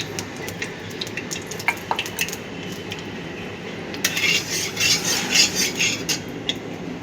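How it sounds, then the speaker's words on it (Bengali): Mustard oil goes into a wok. Light metallic clinks and scraping lead into a louder crackling sizzle that swells and flickers for the last few seconds, close and unaccompanied by talk. "প্রথমে কড়াইতে আমি একটু তেল দিয়ে দেবো, সর্ষের তেল দিয়ে দেবো একটু বেশি করে"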